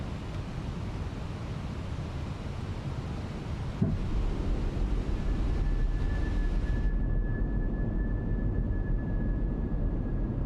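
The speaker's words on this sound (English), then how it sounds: "Dropping that gear." On a Fenix A320 flight simulator, landing gear lowers with a dull thump, then a steady rushing airflow with a thin whine continues under the cockpit ambience, moderately loud and close.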